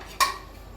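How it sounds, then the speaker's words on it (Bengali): A lid goes onto a pot of milk on a gas stove with a single sharp metallic clink that rings briefly and fades, close and alone in a quiet kitchen. "তো এখন দুধটা খালি একটু ঢেকে থবো।"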